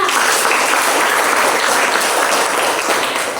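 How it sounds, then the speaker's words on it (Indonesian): Classroom applause for the children, a dense, steady burst of many hands clapping at once, loud and sustained throughout before easing slightly at the very end. "Kita beri tepuk tangan untuk anak-anak semuanya"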